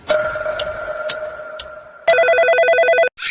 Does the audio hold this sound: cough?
no